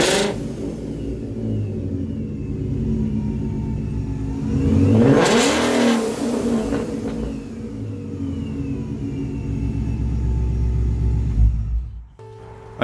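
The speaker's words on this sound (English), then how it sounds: "Let me rev it up for you guys a little bit just to figure out how it sounds." A 2017 Mustang GT with a Vortech V3 supercharger revs up near the car, its engine swelling into a loud rising roar around the middle before settling back to a steady rumble and cutting off abruptly at the end.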